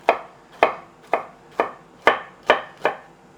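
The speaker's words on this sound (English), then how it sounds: "these bottom smaller halves, I'll just cut into cubes" A knife chops meat into cubes on a cutting board during kitchen meal prep, seven sharp, evenly spaced knocks landing roughly every half second, close and clear with no talking.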